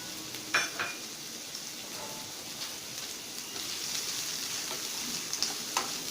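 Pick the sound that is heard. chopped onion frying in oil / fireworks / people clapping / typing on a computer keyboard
chopped onion frying in oil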